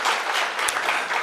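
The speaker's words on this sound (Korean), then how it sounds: "박수 한번 하죠" A church congregation claps in a short, loud burst of dense applause lasting about a second.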